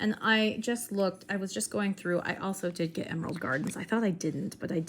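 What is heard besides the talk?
None of the usual background noises is heard.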